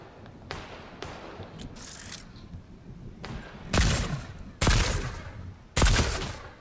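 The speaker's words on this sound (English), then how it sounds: "let me try and hit him with a stark rifle" A Stark rifle fires in a video game, sounding as a handful of sharp, separate shots spaced irregularly, the last three louder and heavier, with no talk over them.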